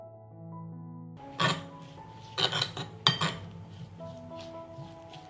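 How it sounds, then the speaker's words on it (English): Parsley, garlic, olive oil and salt stirred in a bowl, a spoon clinking and scraping against the dish in a few distinct bursts after soft music fades out. "Add parsley, garlic, 60 milliliters of olive oil to a bowl. A teaspoon of salt and stir."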